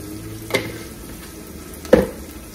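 Chopped onions browning in a pan while cooking a Kerala-style beef cashew roast give a steady close sizzle, broken by two brief clanks of stirring.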